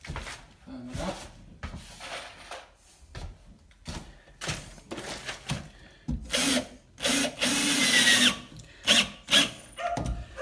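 Power drill driving screws into a bathroom wall to firm up a loose towel rail, in repeated short bursts of whirring separated by pauses, growing longer and louder toward the end, close by.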